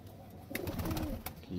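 A male Maggar pigeon coos in a few low, soft bursts at close range, with faint background noise and brief clicks, and no speech over it.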